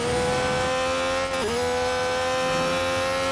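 A Formula 1 2019 car's engine in Real Racing 3 at Silverstone whines loudly and steadily, dipping briefly as the car brakes, then climbing again.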